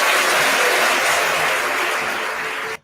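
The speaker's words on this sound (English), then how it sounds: "Cue clapping." A burst of loud, dense crowd clapping runs evenly for nearly three seconds before cutting off abruptly, sounding like a canned applause effect dropped into a spoken commentary.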